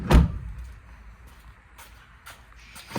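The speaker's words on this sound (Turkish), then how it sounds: "Kapıyı kapatalım." A Ford Courier's door shuts with one solid, heavy thud at the start, followed by a quiet background with a few faint clicks.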